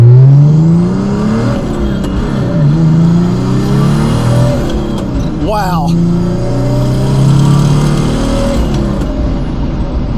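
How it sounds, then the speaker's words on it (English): Interior engine roar of a 1995 Mercedes E300 turbo diesel as it accelerates hard in third gear, rising harmonics climbing steadily with the turbo pulling strongly; a man briefly exclaims over the loud engine. "Third gear, that turbo really kicks in and this car just takes off."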